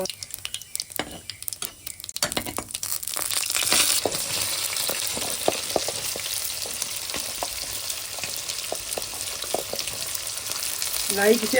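Cumin seeds hit hot oil in a home kitchen pan and burst into a steady crackling sizzle that builds quickly and holds, with scattered pops and the scrape of stirring throughout.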